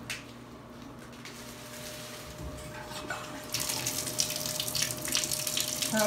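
Water runs from a bathtub faucet in an apartment bathroom, starting as a soft trickle and swelling into a louder, steady hissing gush in the second half.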